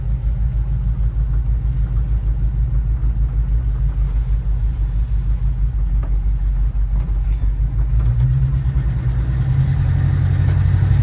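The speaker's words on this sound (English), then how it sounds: "The exhaust sounds amazing though." A 1969 Chevrolet K5 Blazer CST, original with 44k miles, idles after a cold start on a 33-degree morning, its engine a steady loud low rumble with exhaust burble that thickens slightly near the end.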